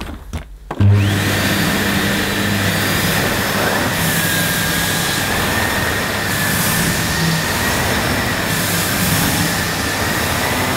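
Sebo K1 Komfort cylinder vacuum cleaner running on plush carpet, a loud steady whine and roar that starts after a brief click and holds unbroken for about ten seconds.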